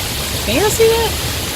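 Steady hiss of a waterfall cascading down a stepped staircase at the Fort Worth Water Garden, with a voice and a short whistle-like tone over the rushing water.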